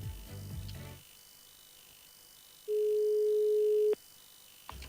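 A steady electronic telephone line tone during a radio phone-in, heard alone as a single sustained beep lasting about a second, after a brief stretch of other sound and before the line connects.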